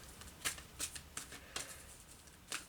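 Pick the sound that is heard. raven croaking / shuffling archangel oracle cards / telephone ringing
shuffling archangel oracle cards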